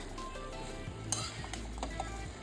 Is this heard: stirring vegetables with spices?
yes